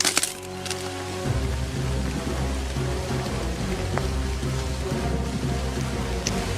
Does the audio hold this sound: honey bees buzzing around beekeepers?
no